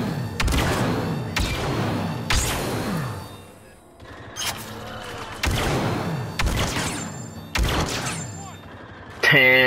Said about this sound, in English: we got rockets to the left